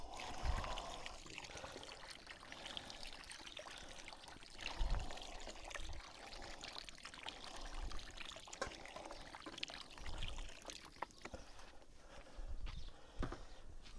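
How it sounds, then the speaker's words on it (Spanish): Water pours into concentrated broth in a paella pan for rossejat rice, a steady, hissing, splashing wash of sound that runs throughout with no talk. "Es un caldo concentrado, vamos a añadir algo de agua"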